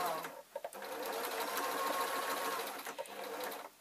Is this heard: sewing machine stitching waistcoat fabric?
yes